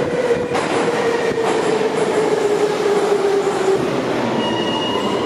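A Moscow metro train rumbles loudly and continuously, with a steady whining tone running through the noise and a few brief clicks near the start.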